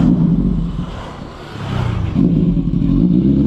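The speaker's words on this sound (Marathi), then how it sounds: "आता परत इथनं गाड्या काढणार आहे आणि कुठल्या तरी नवीन पॉईंटला जाणार आहे" Yamaha MT-15 motorcycles starting up and revving, a loud steady engine drone with a dip in the middle before the rumble swells back up, close by and alone.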